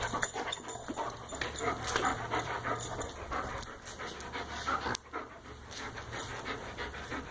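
A heartworm-positive dog pants rapidly and steadily up close, quick breathy huffs repeating, with a few small whimpers and a brief pause near the end.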